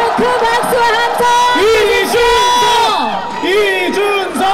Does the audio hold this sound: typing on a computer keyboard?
no